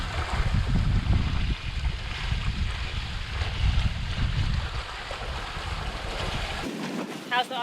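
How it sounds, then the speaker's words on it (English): Waves roll and wash behind a moving sailboat at sea, a steady loud rushing surge mixed with wind buffeting the microphone, cutting off abruptly near the end. "Some waves behind us."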